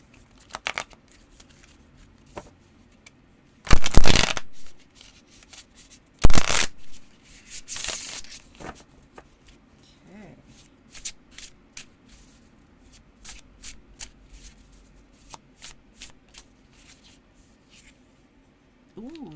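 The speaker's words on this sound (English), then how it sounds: "I was going to do another shuffle and get another message" Tarot cards being shuffled close up: a few loud riffles, then many quick soft flicks and taps of cards sliding against each other, with no talking.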